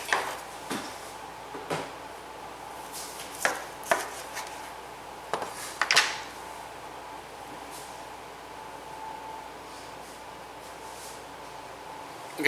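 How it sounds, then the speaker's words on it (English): A knife cuts through cooked pork ribs from a two-hour Weber grill barbecue, giving a series of sharp, irregular chopping knocks close by over a low, steady background hum. "let's go cut them up and do that taste test"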